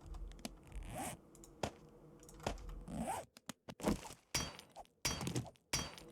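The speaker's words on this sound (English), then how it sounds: "I will have to break away these little trim pieces on this elevator." Iron trim pieces being broken off an elevator in the game COVID Besieged: a run of sharp, scraping cracks and knocks, some isolated and some clustered, fairly close and with no voices.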